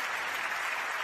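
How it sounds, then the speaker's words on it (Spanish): An audience at a science outreach event in Sevilla applauds the volunteers, a dense, even burst of clapping from a large crowd filling the whole moment. "un aplauso a los voluntarios"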